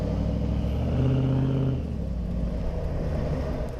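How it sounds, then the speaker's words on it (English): A big, worn old Dodge Ram pickup truck climbs a tight road, its engine a low steady rumble close by with a brief droning note in the middle before easing slightly. "fun driving this big old truck up this tight road"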